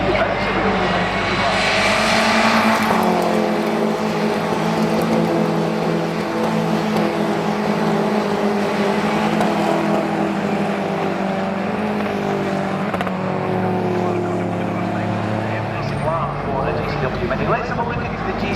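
BTCC touring race cars roar through the chicane at Knockhill, a loud, sustained engine drone with rising and falling pitch as cars pass close by, with commentary running over the top throughout.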